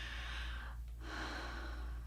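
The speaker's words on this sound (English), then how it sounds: "So breathing in" A single deep, close breath drawn in slowly and audibly during a singing breathing exercise, steady airy inhalation over a constant low background hum, with no talking.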